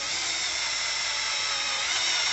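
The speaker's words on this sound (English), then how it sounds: "first I'm gonna try to drill a hole" A power drill bores a hole for installing an adjustable chain link gate, giving a loud, continuous high-pitched whine close by that holds steady throughout with no voices.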